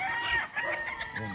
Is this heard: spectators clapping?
no